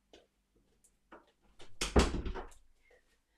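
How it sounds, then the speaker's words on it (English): An office door is pushed shut with a single close thud after a few faint shuffling clicks, heard nearby in a quiet room. "I'm just going to shut the door to the office"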